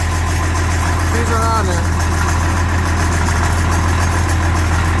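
An engine runs steadily near half throttle with a constant low drone throughout, while a person talks briefly over it.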